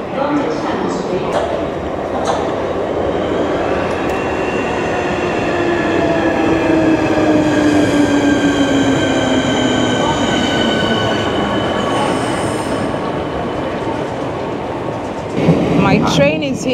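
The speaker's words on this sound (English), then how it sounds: "My train is here." Train pulling into London Cannon Street station, a sustained loud rumble with a long descending wheel squeal and steady rail noise building as the carriages roll in, with brief voices near the end.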